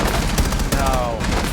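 Rapid AK rifle fire in the video game Rainbow Six Siege, a dense, loud burst of overlapping shots that runs the whole short moment, with faint voices underneath.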